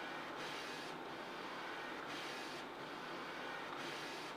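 An Epson 4880 large-format printer runs a 17-inch borderless print, giving off a loud, continuous mechanical whir. Brief dips recur about once a second as the print head sweeps back and forth.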